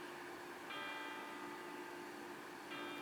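Village church bells ring faintly and steadily at a distance, their tones swelling slightly in two spots, heard alone with no voices present.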